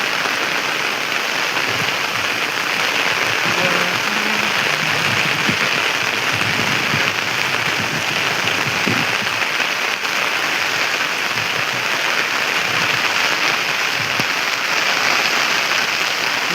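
Heavy rain pouring steadily on a rural Nepali homestead, likely drumming on a tin roof where goats shelter, a dense continuous hiss that stays loud and unbroken throughout with no voices.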